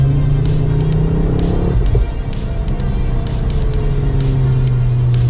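A car on a race track during a track-driving initiation, its engine droning loud and close with a steady hum that dips briefly partway through and then settles back to a constant roar.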